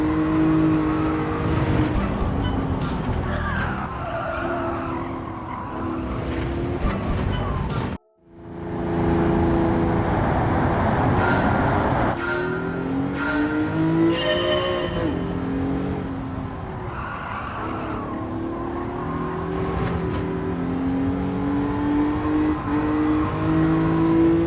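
A 2008 Nissan Fairlady Z Z34 in a racing video game, its engine revving and climbing through gears with a brief cut near the middle, loud and continuous throughout with faint tire noise.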